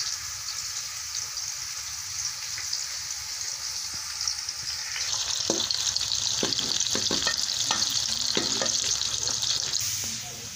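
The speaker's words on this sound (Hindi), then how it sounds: "टमाटर को भुनी में शामिल कर लेंगे और ऊपर से दही डाल देंगे" Tomato and curd stirred into browned frying onions, a steady sizzle that swells louder midway as wet ingredients hit the pan, with repeated spoon scrapes and clacks against the vessel, close and without speech.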